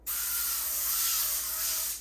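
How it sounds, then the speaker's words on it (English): A single continuous spray of avocado oil onto a sheet pan hisses for about two seconds, close and loud, then cuts off abruptly. "And then we're gonna spray this. This is probably gonna get everywhere. This is like avocado oil spray."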